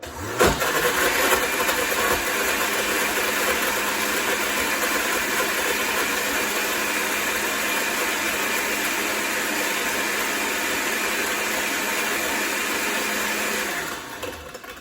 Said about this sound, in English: So I'm going to use the smoothie mix on my blender.